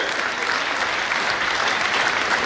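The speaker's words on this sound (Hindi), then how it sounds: "ताली बजा के सरकार का आभार व्यक्त किया जाए" Steady applause from a crowd at a Chhattisgarh jewellers' association convention, a dense unbroken wash of clapping that holds at an even level with no voices standing out.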